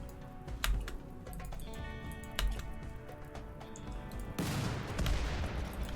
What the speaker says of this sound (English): The mortar hit, but it didn't do any damage?